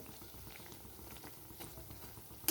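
Bread slices deep-frying in hot oil, a faint, continuous bubbling and crackling patter with small irregular pops, heard close with no talking.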